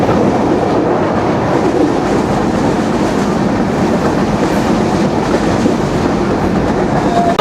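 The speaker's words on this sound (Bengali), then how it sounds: "এই যে আমাদের কপোতাক্ষ এক্সপ্রেস ট্রেন" Kapotaksha Express on the Khulna–Rajshahi run, heard from aboard as a continuous loud rumble with steady clickety-clack of wheels over rail joints, no voices.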